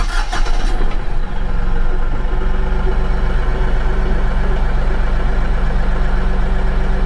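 A Bobcat tractor engine cranks and catches, then settles into a steady, loud, close diesel idle that runs on alone.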